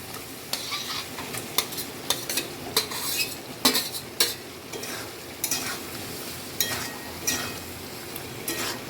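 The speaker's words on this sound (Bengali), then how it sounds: "এবার আমি ভেন্ডিটা দিয়ে দিচ্ছি, ভেন্ডি আর পেঁয়াজগুলো দিয়ে দিচ্ছি ভেজে রাখা" Fried okra and onions tipped into masala and stirred, with repeated scrapes and clinks of a spoon against the pan over a steady sizzle, close by and without voices.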